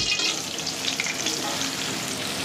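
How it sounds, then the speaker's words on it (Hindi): Onions frying in hot ghee, a dense, constant sizzle with faint stirring, close and loud, and no voices. "प्याज को अच्छे तरीके से फ्राई करेंगे।"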